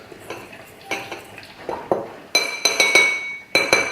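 A utensil clinks and scrapes against a bowl while sugar and salt are mixed by hand, close and bright, in a quick irregular series of taps that speeds up toward the end.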